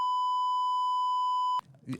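A loud, steady censor bleep tone added in post-production runs unbroken for about a second and a half, then cuts off abruptly as conversation resumes.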